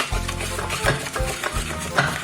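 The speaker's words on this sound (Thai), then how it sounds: "เราก็บี้ไปเรื่อย ๆนะคะอันนี้กรณีที่เราไม่มีเครื่องปั่นนะคะ" Passion fruit pulp is squished and mashed by hand with water in a container, a close, wet, squelching and stirring sound in uneven strokes with occasional light clinks.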